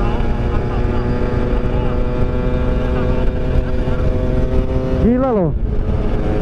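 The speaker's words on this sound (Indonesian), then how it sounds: "Kenceng banget ini motor." A Yamaha RX-King 150cc motorcycle with open KIPS rides fast, its engine and wind a loud, steady roar. Near the end another vehicle sweeps past with a rising-then-falling whine, and a brief spoken remark is heard.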